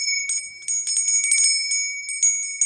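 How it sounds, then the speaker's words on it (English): A small bell is rung rapidly over and over, giving bright, high metallic chimes in quick irregular strikes that overlap and shimmer, close and fairly loud in an otherwise quiet room. "I need to ring the bell to clear some of this negative energy out"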